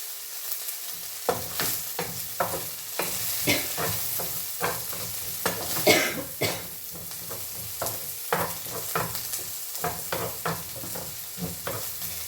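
Food sautés in a pan in a home kitchen, with a steady sizzle beneath repeated scraping and clacking stirring strokes, heard close up for about twelve seconds.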